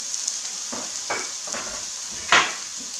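Venison burgers sizzle steadily in a pan, a constant frying hiss broken by a few soft scraping and flipping knocks, one louder clatter near the end; no talk.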